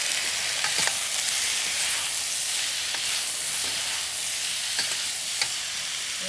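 Rice noodles stir-fry with shrimp in XO sauce, a loud, dense, continuous sizzle with faint scraping stirs scattered throughout and no voices.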